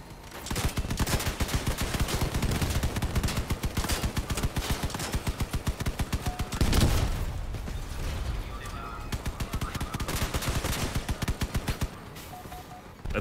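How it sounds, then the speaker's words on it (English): Repeated gunfire from enemy vehicle weapons in the vehicular combat game Crossout, fast rhythmic bursts with a heavy blast near the middle, loud and continuous under a player's occasional talk. "Wait till he fires. Yep, he fired."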